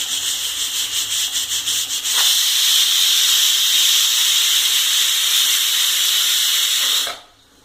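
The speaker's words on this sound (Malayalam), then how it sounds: "ഒരു വിസിൽ വന്നിട്ടുണ്ട്, ഓഫ് ചെയ്തു." A pressure cooker whistle releases steam with a loud, close hiss, first in rapid pulsing bursts and then as a steady blast for about five seconds before cutting off abruptly.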